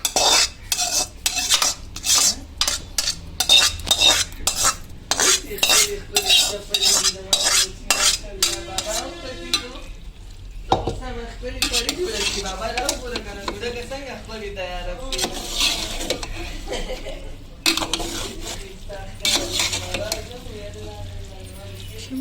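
Fried keema being stirred into boiled spaghetti in a pot, with a quick run of sharp utensil scrapes and clinks against the metal, then softer mixing sounds, close by, with a voice talking over parts of it.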